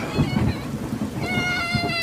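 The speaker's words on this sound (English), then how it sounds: "you got scared by the thunder like everyone else does" Thunder rumbles through a storm with steady rain, a low rolling roar under a higher tonal whine near the end.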